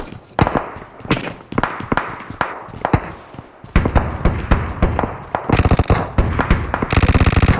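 Rapid automatic gunfire in the PUBG video game on the Livik map, loud dense bursts of shots and thuds crowding one another across the whole stretch, with fast rattling volleys near the end.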